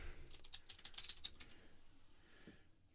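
A computer keyboard clicks in a quick run of keystrokes that stops after about a second and a half, leaving near quiet.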